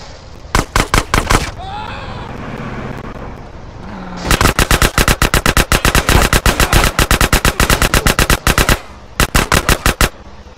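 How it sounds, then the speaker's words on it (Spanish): Rapid automatic gunfire in GTA San Andreas, loud and close, with dense bursts of shots broken by short pauses, a longer sustained volley in the middle, and a final quick burst. "Me están disparando."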